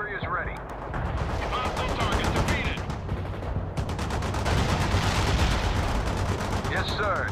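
Battle sounds from the World in Conflict video game, dense rapid gunfire and heavy booming blasts rolling almost continuously, with voices speaking over the din.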